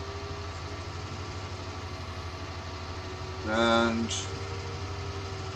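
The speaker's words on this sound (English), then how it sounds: "we will get on board our little case tractor" A small Case tractor engine idles steadily on a farm, a low, even rumble running throughout, briefly topped by a louder tonal rise near the end, with a short spoken word.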